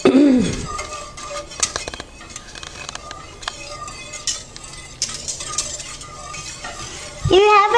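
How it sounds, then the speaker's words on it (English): A whisk stirring yogurt into warm milk in a container, rapid scraping and clinking against the sides, fairly close, with a brief voice at the start and again at the end. "Get my whisk, and we're going to whisk away here and just get it all mixed in good"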